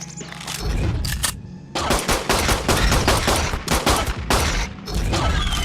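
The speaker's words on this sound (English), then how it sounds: "And I can help out with this pistol here." Rapid bursts of gunfire from a pistol in the survival game Ark Survival Ascend, loud and dense, with many overlapping shots in quick succession and short pauses between volleys.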